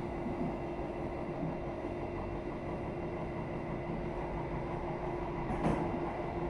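Argo Muria passenger train running on rails, heard on board as a steady low rumble and rolling noise with a brief brighter clatter near the end, no talk.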